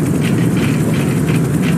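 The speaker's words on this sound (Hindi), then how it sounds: "मेरे को कोई हेलीकॉप्टर की आवाज़ भी आने लगी है" A helicopter in the video game IGI, a steady low mechanical drone with a pulsing rotor throb, loud and continuous with no speech.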